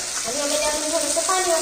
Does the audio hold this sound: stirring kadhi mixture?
yes